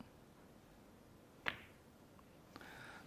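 A snooker cue strikes a ball at a World Championship quarter-final, giving a single crisp, clean click. A fainter knock follows about a second later, over quiet arena ambience, with no talking.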